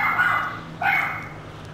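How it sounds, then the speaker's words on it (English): A dog barks loudly in two close bursts, yapping at everything indoors, with a steady low hum underneath. "He barks at everything."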